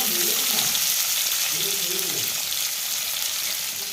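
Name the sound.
prawns frying in a pan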